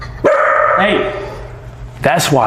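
A dog gives a few loud, close barks and yips in short bursts while someone shouts and talks excitedly over and between them, indoors.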